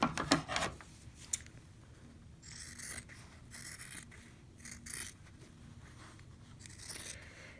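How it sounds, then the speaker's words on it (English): Scissors snip through quilt fabric along a sewn line in short, quiet rasping cuts spaced a second or so apart, close by with no talking. "this is the cutting line, so I can go ahead and cut it now"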